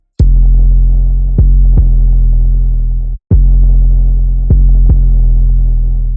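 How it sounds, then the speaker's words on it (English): Deep 808 bass in a dark trap beat, sustained low tones that slide between chord root notes, about four long hits with a short gap near the middle, loud and alone with no voice. "Then I added the 808, and the 808 just follows the bass note from the chords"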